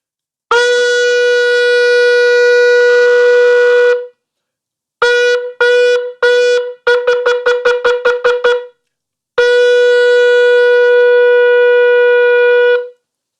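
A shofar blasts shevarim teruah: a long sustained note, then three short broken wails, a rapid run of nine staccato bursts, and another long held note, loud and alone.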